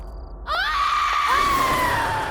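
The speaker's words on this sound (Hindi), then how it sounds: "ये किसकी चीख है?" A woman's long, piercing scream from a Hindi horror show, rising sharply after a brief quiet moment and then holding a sustained, wavering high cry that slowly fades.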